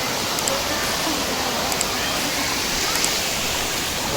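Waterfall at Dongeshwar Mahadev dham, a dense, steady rush of falling water that stays loud and unbroken throughout.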